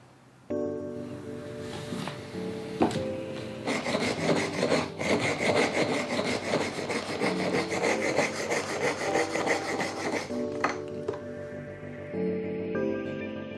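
A blade shaves a long bamboo flute in a workshop, giving a sustained, close rasping scrape of wood that runs for several seconds, with soft musical tones before and after.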